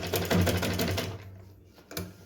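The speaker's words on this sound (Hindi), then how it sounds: "और अब हम यहाँ पे इसके ऊपर सिलाई लगाएंगे।" A sewing machine stitches a Laddu Gopal Janmashtami dress, its needle running in a fast, steady mechanical rattle for about a second before stopping, then giving a brief restart, loud and close.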